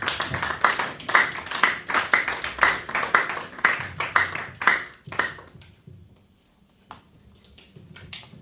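A church congregation claps in a steady, rapid rhythm for several seconds, many hands together, before the applause thins out and fades to near silence with a few scattered claps.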